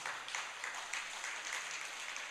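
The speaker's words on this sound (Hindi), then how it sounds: "आज माइक वाले को जोरदार तरीके की तालियां बजा दो।" Applause rises from an audience during a religious sermon, a faint, steady patter of many hands clapping heard from a distance.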